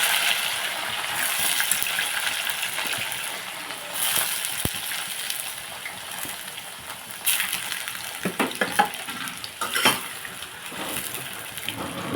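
Onions and green chillies are frying in a pan with eggs for a tomato egg curry. A steady close sizzle carries scattered pops and stirring clatters, with no clear talk.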